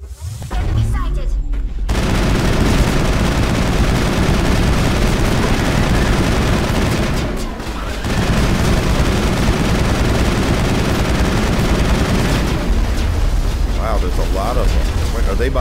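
Sustained heavy gunfire from Geth enemies in Mass Effect, a dense continuous barrage that dips briefly midway then resumes, with talk woven in over it.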